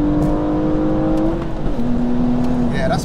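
A modified wide-body BMW M235i with about 500 bhp, heard from inside in first gear in Sport Plus mode, its engine roaring loudly and climbing in pitch, shifting once, then pulling hard again under a man's speech.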